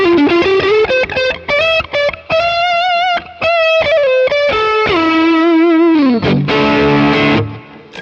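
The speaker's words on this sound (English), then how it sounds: "because I've got the gain and level so high, it's picking up any noise at all coming out of the guitar signal" Electric guitar through a high-gain distortion pedal with gain and level set high, playing a loud, heavily saturated sliding lead line with sustained notes, ending in a burst of harsh, buzzy distorted noise.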